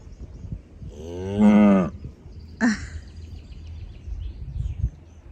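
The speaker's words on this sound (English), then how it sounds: "you can see behind me, see that cow right there?" A cow on the Scottish or Norwegian coast gives a single clear moo about a second long, then a short second low call, fairly close against a quiet outdoor background with faint bird sounds.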